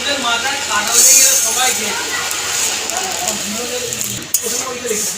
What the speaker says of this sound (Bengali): নেড়ে ছেড়ে ভালো করে ভেজে নেব ডালটাকে।